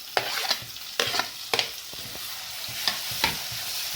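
Cashew and onion paste with turmeric and coriander powder frying in a pan for Simla paneer masala, with a steady sizzle broken by several sharp scraping stirs of a spoon.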